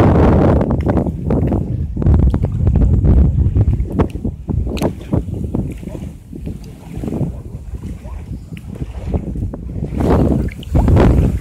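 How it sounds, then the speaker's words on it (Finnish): Strong wind buffets the microphone by the sea during wading in shallow water, a loud continuous rumble with gusty swells and a boat-like low roar, no clear speech. "Tuulee aina."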